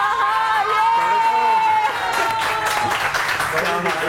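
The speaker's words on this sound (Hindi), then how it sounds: "तो आपकी भरपूर तालियों में हम वेलकम करते हैं डॉक्टर खुर्रम और डॉक्टर जावेद को" A television morning-show studio audience claps and cheers to welcome two doctors onstage, a busy crowd roar layered under a tonal voice or music that fades midway as the clapping builds.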